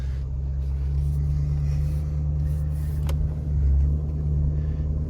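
A 15,000-pound tow truck in four-wheel drive drags a 3,000-pound van through snow, giving a loud, steady low engine rumble that swells briefly near the end, with a sharp click partway through.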